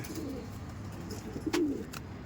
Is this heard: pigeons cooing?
yes